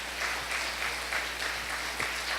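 A church congregation applauds, a steady wash of many hands clapping at moderate distance, continuous throughout with faint low background hum and no clear speech.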